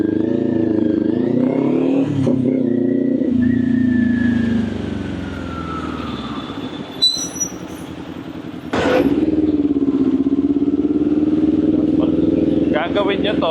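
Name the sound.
Kawasaki Ninja 400 motorcycle riding in Manila traffic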